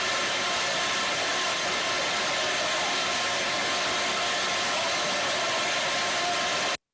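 A machine's rotating cylinder, driven by the machine pulley with a tension pulley holding the feed taut, gives off a steady, loud broadband whirring hiss that runs unchanged for about seven seconds and then stops abruptly.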